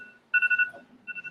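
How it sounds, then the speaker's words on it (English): A phone or timer alarm goes off during an indoor conversation, a close series of quick electronic beeps in two short bursts with a pause between. "Oh, it's somebody's phone."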